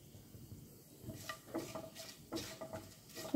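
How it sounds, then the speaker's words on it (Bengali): Whole spices, dried chili, bay leaf, cinnamon, cardamom, cloves and cumin seeds, are stirred in hot oil in a pan, with a soft sizzle and faint scraping and clinks of the spoon, quiet and close. "আমি 2-1 সেকেন্ড নাড়াচাড়া করব।"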